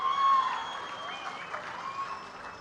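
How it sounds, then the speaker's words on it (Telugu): An audience claps in sustained, dense applause at a public address by Chief Minister Chandrababu, the clapping strongest at the start and holding steady after; a faint voice can be heard under it. "వాళ్ళిద్దరిని కూడా గట్టిగా చప్పట్లు కొట్టి అభినందించండి."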